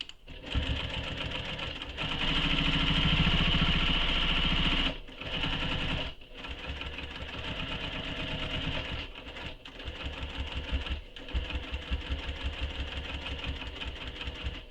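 A sewing machine runs a seam on a satchel bag, its motor humming in long, steady bursts of rapid stitching with short pauses around the middle and brief stops and restarts later on.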